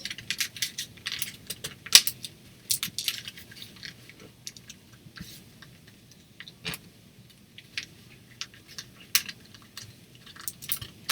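Small metal paper clips being handled over paper on a journal page, light scattered clicks and rustles coming in irregular bursts, close and quiet, with no talking.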